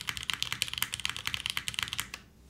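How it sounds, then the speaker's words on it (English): Rapid, crisp typing clatters on a custom-built Gehirn mechanical keyboard, close and fairly quiet, a dense run of keystrokes that stops shortly before the end. "you'll get a good sounding keyboard of this for sure"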